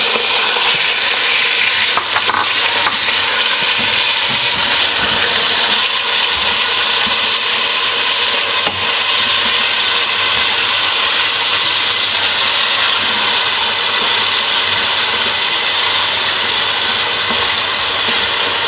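Marinated boneless chicken, added to a hot pan with garlic-ginger paste, gives off a loud, continuous broadband sizzle that stays steady and hissy throughout, with no talking.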